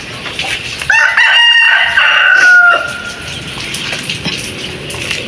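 Backyard chickens, including a rooster crowing loudly and nearby hens clucking, after a night of heavy rain; the crow rises sharply and holds for about two seconds, with softer clucks and ambient noise around it.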